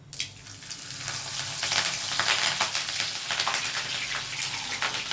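Chillies drop into hot oil already popping with mustard seeds and cumin, setting off a loud, continuous close sizzle with crackling spatter that holds steady throughout, with no voices.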